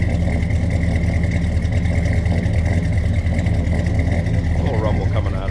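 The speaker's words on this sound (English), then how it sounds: "A little rumble coming out of that Ford." A 1964 Ford Galaxie 500 XL engine idles with a steady low rumble heard close by, the tone holding even throughout with a slight shift near the end.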